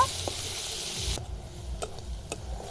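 Crushed garlic and chopped onion fry in a pan, a loud hissing sizzle that drops off after about a second, leaving a softer crackle with a few sharp stirring clicks close by.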